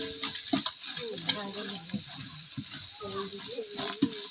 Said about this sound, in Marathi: हे सुद्धा चांगलं मिश्रण असं हलवून घ्यायचं चांगलं भाजून घ्यायचं आपल्याला